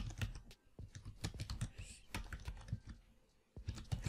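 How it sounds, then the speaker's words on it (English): Rapid keystrokes on a computer keyboard while typing a plugin name into a WordPress search bar, clicking in quick irregular bursts with a short pause near the end, close and clear with no talking. "In the search bar, type Blossom Themes"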